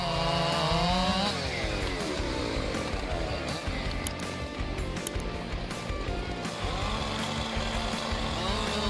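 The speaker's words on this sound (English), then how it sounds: "Let's see the competition between Husqvarna 592 and Style MS 661, leading chainsaws famous for their power and precision" Husqvarna 592 and Stihl MS 661 chainsaws roar close and loud through wood, engines revving up and down in rising and falling whines as they bite into the cut, with no pauses.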